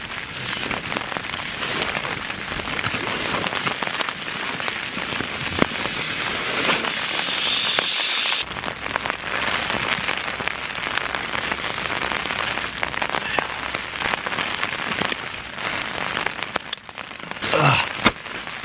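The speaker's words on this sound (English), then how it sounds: "I'm hoping the rain goes off a little bit when I actually have to go outside" Heavy rain drums steadily on a tent through a windy night at a camp in Ireland, a dense continuous hiss and patter that stays loud throughout with a few sharper gusts and spatters.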